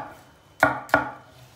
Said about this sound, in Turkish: Şimdi diğer malzemeyi doğrayacağız.